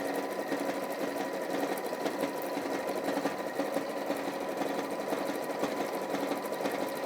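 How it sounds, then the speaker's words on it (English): Chain stitching through fabric binding, a sewing machine runs without a break in a fast, steady mechanical whir with a busy ticking rhythm, close and fairly loud. "chain stitched these through the machine"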